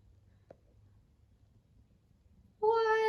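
A rescued stray kitten lets out one clear, loud harmonic meow near the end, close by, after a near-silent stretch with a faint tap.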